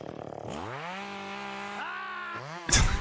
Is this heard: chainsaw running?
yes